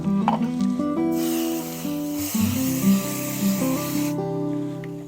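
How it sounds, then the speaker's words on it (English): A steady hiss of spray adhesive from an aerosol can lightly spraying for jean jacket embroidery, lasting about three seconds, close by, with faint handling noises before and after. "we're going to be using the spray adhesive, and we're going to be lightly spraying it"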